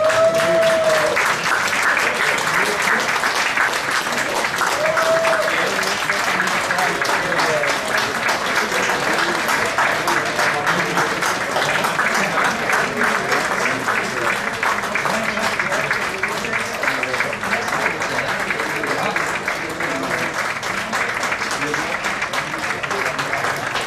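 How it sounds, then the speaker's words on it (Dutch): A football crowd at the Eeklo versus Zaffelare match gives a minute of warm applause, steady dense clapping that stays loud and unbroken throughout, with a brief whistle-like tone near the start and around five seconds. "Om José te bedanken, graag 1 minuut een warm en oorverdovend applaus"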